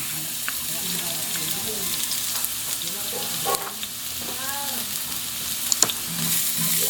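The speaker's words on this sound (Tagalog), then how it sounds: "Next step po natin, magigisa tayo ng bawang." Garlic sautés in hot oil in a pan for a Filipino beef dish, a steady close sizzle with occasional stirring scrapes and clatters, and a faint voice now and then.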